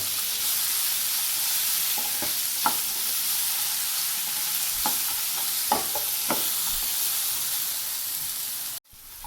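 Beaten rice and banana frying together in a pan, a steady hiss of sizzling oil with occasional scraping stirs and light clinks against the pan, close and continuous, ending with a brief clunk.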